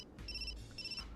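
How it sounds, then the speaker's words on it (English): A phone ringtone in the video game Root Double plays as two short, bright electronic chirping bursts, fairly quiet over a low background hum. "Ukita's phone suddenly rang at that thought."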